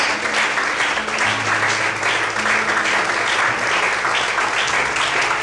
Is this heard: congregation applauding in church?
yes